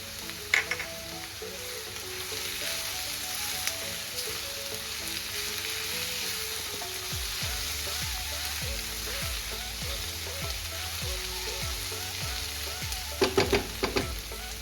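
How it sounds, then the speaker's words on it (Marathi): Chopped onion frying in a pan for jhunka, a steady close sizzle and crackle throughout, with occasional stirring scrapes and a few sharper clatters near the end, no voices. "कांदा एकदम लालसर होईपर्यंत भाजून घ्यायचा"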